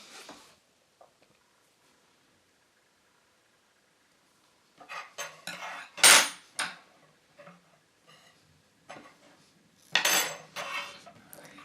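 Utensils from a Brabantia Make & Take cutlery set, including a knife, are picked up and handled. After a quiet stretch come close metallic clinks and rattles in short bursts, with a louder clatter near the end.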